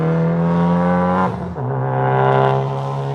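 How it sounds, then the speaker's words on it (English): Sustained high-revving engine of a car on a race track, its pitch holding steady, briefly dipping, then climbing again as the turbo spools; loud and close with no talking. "You guys hear that turbo?"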